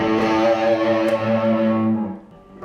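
An electric guitar played through an amp's distortion channel in a home studio setup holds a loud, sustained, gritty chord that rings steadily and then fades near the end.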